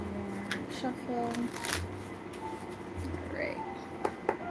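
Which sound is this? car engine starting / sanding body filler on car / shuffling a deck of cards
shuffling a deck of cards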